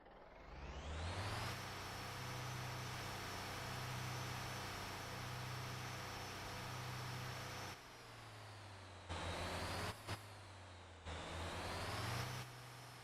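Fire truck in the video game Motor Town pulling away after its handbrake is released, a loud, sustained engine drone that rises and then drops, with a few abrupt cuts and surges near the end.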